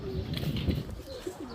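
A male racing pigeon cooing close by in soft, low throaty phrases over a steady background hum, with faint rustling and no talk.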